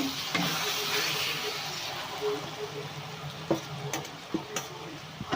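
Okra frying in hot oil: a broad sizzling hiss fills the clip, with a few sharp clinks and taps from stirring toward the end.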